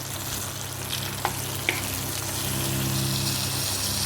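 Green chillies sautéing in a pan over a gas flame give a steady, close frying sizzle with two small clicks partway through; no voices.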